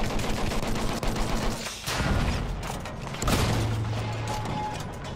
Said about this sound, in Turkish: Orada bir makinalı tüfek var.